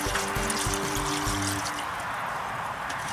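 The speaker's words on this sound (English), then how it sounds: "Add 4 cups of water." Water is poured into a shallow drip pan on a plate setter in a barbecue grill, a splashing, trickling stream heard close up with a short burst of low tones over it early on.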